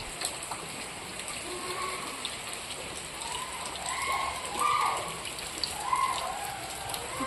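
Rain falls steadily outside a home, a soft continuous patter on surfaces with occasional faint animal or bird calls in the background and no voices.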